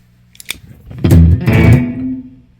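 An electric guitar is played through a Strymon reverb pedal: a short picked note, then a louder strummed chord that rings out and trails off into a lingering reverb wash.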